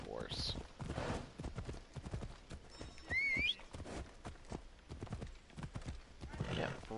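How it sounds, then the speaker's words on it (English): Galloping horse hooves in the Assassin's Creed Odyssey video game beat a fast, steady rhythm throughout, with a brief whinny-like call midway, mixed with game ambience and occasional voices. "better jump, you lazy horse."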